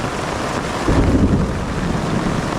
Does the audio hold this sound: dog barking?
no